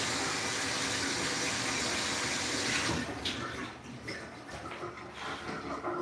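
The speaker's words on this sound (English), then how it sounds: "Let me give those rinse as well." Fresh basil rinsed under a running kitchen tap, a loud continuous gush of water that changes and breaks up into splashes and handling noises partway through, without speech.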